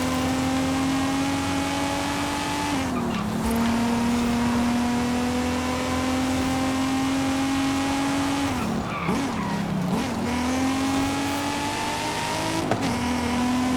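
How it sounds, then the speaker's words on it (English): A 1993 Nissan Skyline R33's inline-six engine drones steadily from an outside camera in a racing game, its pitch climbing through the gears, with brief dips at shifts and occasional tire squeal. "This is that glorious inline 6 thing."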